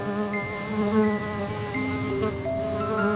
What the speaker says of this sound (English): Wow, look at the bees.